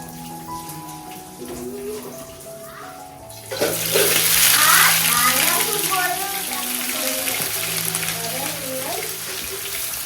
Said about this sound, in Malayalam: അപ്പൊ ഞാൻ ആദ്യം തന്നെ കാഷ്യൂനട്ടും മുന്തിരിയും വറുത്തെടുക്കാൻ പോവാണ്